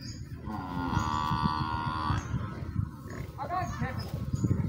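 A water buffalo tied to a cart lows in a long, drawn-out moo, with a second shorter call later, heard outdoors over steady background noise and nearby chatter.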